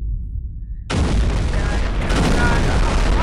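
A bomb detonates on a planet in Garry's Mod: after a quiet low hum, a sudden loud blast erupts into a sustained roaring rumble that swells again and keeps going, dense and close.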